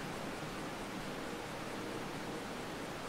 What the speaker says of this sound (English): You got the nice sounds of the water flowing day and night.